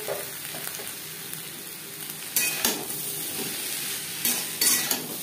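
Spices stirred and frying on low flame in a pan for a Bengali prawn and kochur loti (taro stolon) dish, a steady soft sizzle with periodic louder scraping stirs of a spoon against the pan, close and alone.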